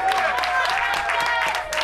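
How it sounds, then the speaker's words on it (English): At a live professional wrestling show, the crowd applauds in a dense wash of clapping that holds steady at close range, with a commentator speaking over it. "The crowd appreciating the heart and soul in Cassius"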